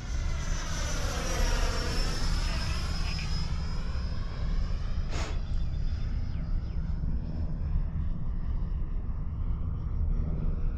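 An E-Flite F-16 Thunderbirds RC electric ducted-fan jet whines steadily overhead on a landing approach with gear down, its high whistle sweeping in pitch as it passes, over a constant low rumble of wind and ground noise.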